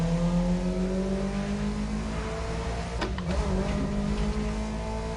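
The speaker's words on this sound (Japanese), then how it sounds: "あとエンジン音もちょっと良くなってます" Car engine revving in The Crew Motorfest racing game, a loud steady motor drone with rising and falling pitch sweeps and a brief sharp swell midway, no talking.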